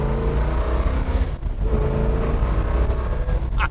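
A 1968 Chevrolet Chevelle SS with an L78 396 V8 rumbles as it drives off, a deep, loud, steady engine drone with a brief dip before it picks up again.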